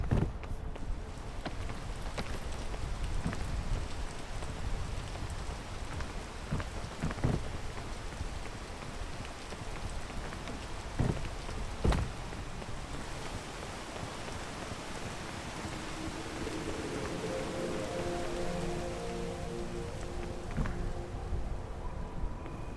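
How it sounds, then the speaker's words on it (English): Steady rain pours in the video game PEAK, a continuous hiss of drops falling on surfaces with a few sharper spatters, then a low droning tone rises beneath the downpour toward the end. "Did the rain just wear off, or did I just get too high up for rain?"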